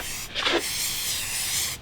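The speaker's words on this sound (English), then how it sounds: "My mom spray painted these." A can of spray paint hisses onto car air vents in a short, close, steady burst, with a sharper onset and an abrupt stop.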